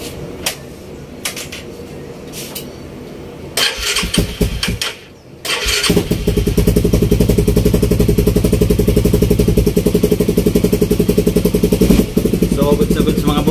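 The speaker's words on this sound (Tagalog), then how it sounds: "try natin i-start yung engine" A Honda Raider 150 motorcycle with a newly installed vacuum-type fuel pump cranks with a few clattering attempts and catches. It then settles into a loud, steady, rapid close-range idle that keeps running to the end.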